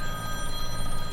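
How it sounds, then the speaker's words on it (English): A mobile phone rings aboard a sailing boat on a Scottish loch, a brief, steady electronic ring with sustained tones and no voices over it. "typically my phone starts ringing when we're in the middle of"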